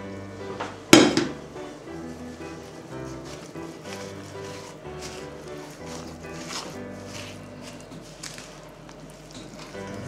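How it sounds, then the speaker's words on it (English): Melted butter being stirred into a Christmas cake mixture in a bowl, with one sharp clatter of utensil against the bowl early on, then steady scraping and mixing sounds over a low background hum. "The butter's nicely melted now, so we'll stick that in and start mixing."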